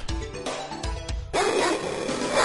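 A dog in the Earthworm Jim video game barks four times in quick, uneven succession, loud and close, followed by a brighter burst of game noise.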